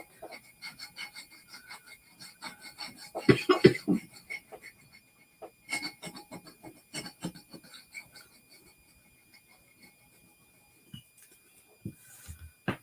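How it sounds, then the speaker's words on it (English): A scraper works chalk paste off a board in a series of short, dry rasping strokes, irregular and close, with louder bursts midway and quiet gaps between passes. "give it a good scrape. It comes right off with the scraper."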